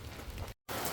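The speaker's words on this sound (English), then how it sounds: "I can't believe this rain just kind of came out of nowhere." Rain pours steadily onto surfaces outdoors in a garden, a dense close hiss of drops, broken by a short moment of total silence before resuming just as heavily.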